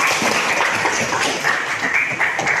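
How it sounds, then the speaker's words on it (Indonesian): A classroom of students gives a short round of applause, a dense, steady wash of clapping heard up close throughout. "Kasih tepuk tangan untuk kita."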